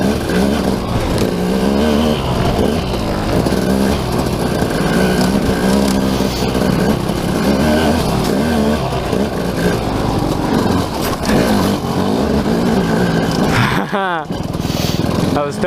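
A motorcycle riding over rocky ground, engine roaring loud and close with fluctuating revs under wind noise and crunching terrain, and a rider talking over it.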